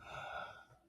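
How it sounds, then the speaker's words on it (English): A single deep inhaled breath taken before a swimming-pool jump, a soft airy rush that swells and then fades, heard alone and fairly quiet. "taking a deep breath."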